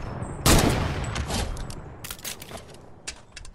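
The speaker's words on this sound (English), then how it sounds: "The strategy will start out with me breaking the wall, and then switching to the other sniper and hitting the snipe." Heavy sniper rifle shots break a wall in Fortnite: one loud, sharp report with debris clatter, followed by quicker cracking impacts and mechanical clicks.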